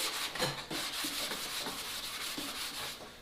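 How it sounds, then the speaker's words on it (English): Car body primer is rubbed down by hand with 220 grit sandpaper in quick, rhythmic back-and-forth strokes, close and even, with no talk. "But we'll keep sanding. This is, like I said, this is only a 220 grit"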